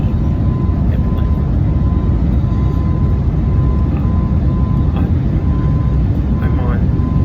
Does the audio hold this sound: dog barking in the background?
no